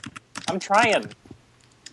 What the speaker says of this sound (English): stop fucking typing